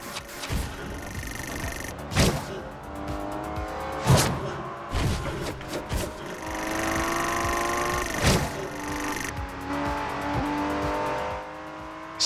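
Racing cars in Forza Horizon 2 roar continuously for about twelve seconds, engines revving up and down through gear shifts with repeated sharp bursts as they accelerate, a dense loud engine drone with no talk.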